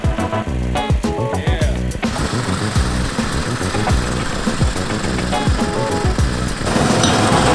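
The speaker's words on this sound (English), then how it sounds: "Time to mow." A lawn mower running over freshly laid sod, its engine droning steadily and close with rough, knocking irregularities, louder at the end, with no speech.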